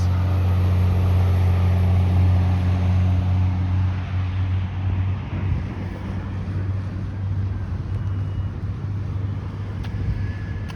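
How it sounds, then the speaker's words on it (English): A route 73 city bus passes on Eglinton Avenue West, its low engine drone loud and close at first, then easing off as broadband road rumble fills the rest. "And here comes the 73 bus."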